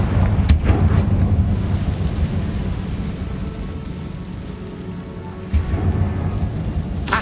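A Confringo blasting curse explosion in Hogwarts Legacy: a loud, deep rumbling roar sustained the whole time, with sharp blasts at the start and again near the end.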